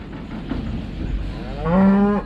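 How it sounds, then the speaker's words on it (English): A cow in a herd of cattle moving to summer pasture with their calves gives a loud, close, drawn-out moo near the end, after a stretch of low outdoor rumble. "this is the second group of cattle"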